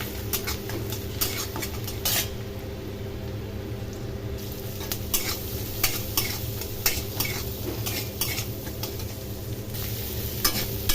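Garlic and chopped vegetables frying in oil with butter and chili flakes in a home kitchen pan, a continuous close crackling sizzle punctuated by repeated clicks and scrapes of a utensil stirring.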